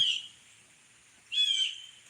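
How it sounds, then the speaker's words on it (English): Two short bursts of high bird chirping outdoors, separated by a quiet gap, fairly faint with no voices. "Let it show that sky and listen to the birds coming out."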